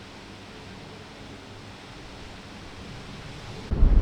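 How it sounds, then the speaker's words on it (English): Strong wind sweeps across a disc golf course during a DGPT Silver tournament round, a steady broadband rush that swells into heavy, buffeting microphone rumble near the end. "putting is just almost impossible from outside the circle in this wind"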